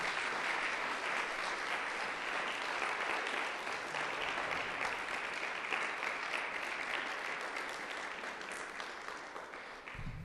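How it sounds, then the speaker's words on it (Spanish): A church congregation gives a sustained, dense round of applause, steady and loud throughout before easing slightly at the end. "Dele un aplauso fuerte al Señor."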